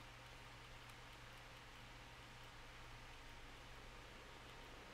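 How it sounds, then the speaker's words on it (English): Steady rain falling in the Minecraft video game, a constant broadband hiss that stays even and moderately soft throughout with no talk over it. "Oh, it's raining."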